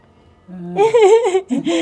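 A cat gives a wavering, whiny meow during a trip in Turkey, rising and falling in pitch, followed by a shorter second cry, fairly loud and close.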